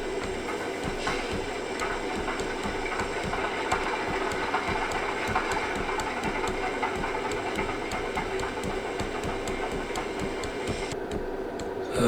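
A LokSound V5 locomotive sound decoder simulates a failed diesel engine start: a steady mechanical rumble with fast repetitive clicking holds for about eleven seconds, then part of the sound cuts out abruptly near the end.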